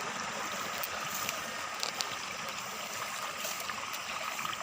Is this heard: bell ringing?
no